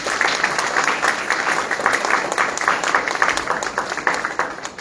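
Sustained audience applause in a lecture hall, many hands clapping steadily at a fairly loud level throughout, following a request to welcome conference speakers.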